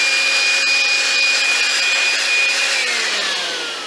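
A Milwaukee M12 compact cordless vacuum, model 0850-20, runs with a loud, steady whine close by, then winds down toward the end.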